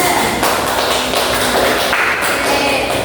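Classroom applause for a student group after its presentation, a dense, steady wash of many hands clapping at once, loud and close, sustained for the full few seconds with no talking over it.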